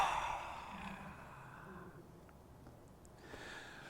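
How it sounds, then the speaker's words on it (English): One long, soft, deep breath exhaled as a sigh, fading over a few seconds, heard alone and close with no talk. "so let's take a deep breath."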